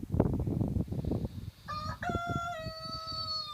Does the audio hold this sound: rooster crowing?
yes